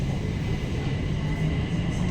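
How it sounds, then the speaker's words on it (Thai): A BTS Skytrain in Bangkok moves off with a steady low rumble, constant broadband rolling noise and no distinct events, fairly close. "รถไฟก็ออกครับ"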